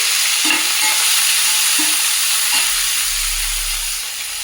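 Chopped onion and tomato fry together in a hot pan, making a loud, steady hiss of sizzling with a few soft knocks from stirring near the start.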